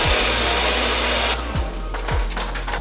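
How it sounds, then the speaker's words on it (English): A blender purees chopped birria sauce ingredients, running as a loud, steady whir that stays constant for the whole stretch, with a few brief low thumps beneath it. "now we're gonna go ahead and hit it to puree."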